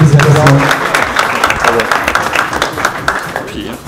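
Applause breaks out at a wine awards ceremony in Cannes, loud crowd clapping that thins into scattered claps, with people talking over it throughout.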